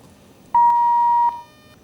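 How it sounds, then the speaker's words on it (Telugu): A single loud, steady electronic beep lasting under a second as a phone call disconnects during a call-in program, clear and alone against quiet background. "కాల్ డిస్కనెక్ట్ అయినట్టుంది"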